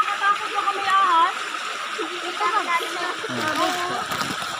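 Rushing water from the fourth waterfall on a river hisses and splashes steadily in the background as people talk over it in the foreground.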